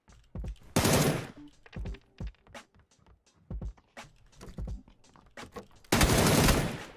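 Video game gunfire sounds in bursts during an online shooter match, with dense volleys near the start and again at the end and scattered single shots in between, loud and close.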